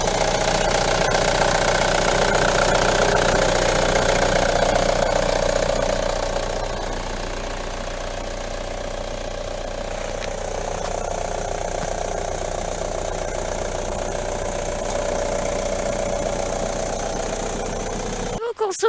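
A car engine idles steadily close by, a constant mechanical hum with a faint knocking texture, fairly even throughout.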